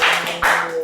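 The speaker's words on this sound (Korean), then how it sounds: "참잘했다 박수 세 번 시작!" A church congregation claps in quick unison, with a few sharp, close claps in under a second and no talk.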